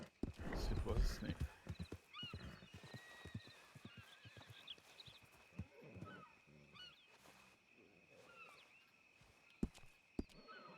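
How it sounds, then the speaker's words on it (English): Horse hooves clip-clop in a roleplay video game, approaching with uneven thuds and a whinny amid ambient game sounds, while people talk over them throughout. "hearing horses' hooves come up this way makes me a little nervous now"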